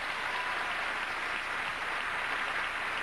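A large audience applauds on cue, a dense, even roar of clapping that fills the whole stretch without pause or voices.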